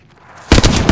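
Bangalore's artillery strike lands with gunfire in Apex Legends, a sudden loud burst of heavy booming blasts and cracking shots after a quieter lead-in, close and dense with no talk.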